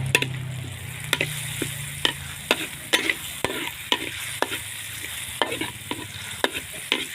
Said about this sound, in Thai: ผัดพริกผัดกระเทียมให้หอม สักนิดนึงถึงจะเอาหมูใส่ค่ะ